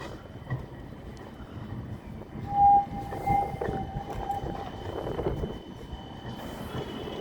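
A tram at the Edgbaston Village stop, bound for Wolverhampton St George's, rumbles and clatters along the rails with a sustained metallic wheel squeal midway.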